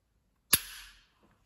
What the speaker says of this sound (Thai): เดี๋ยวมาดูจังหวะดีเซตไกนะคะ ระยะดีเซตไก